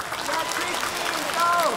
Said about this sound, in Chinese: 我提议让我们用热烈的掌声欢迎 Tracy 来到中国